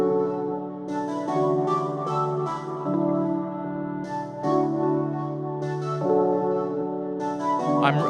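Electronic pre-chorus produced in Ableton, layering a pluck synth with piano: sustained chords that change every second or so beneath bright, rhythmic plucked notes, played alone at moderate volume.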